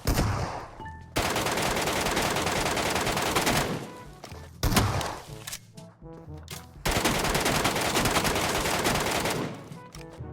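Rapid automatic gunfire from weapons in the shooter game Metro Royale, loud sustained bursts broken by short pauses, with no talk over the shots.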